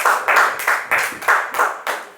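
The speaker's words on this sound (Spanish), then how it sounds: "Démosle un aplauso al Señor." A church congregation clapping in unison in a lively rhythmic beat, about four claps per second, close and loud, with no talk over it.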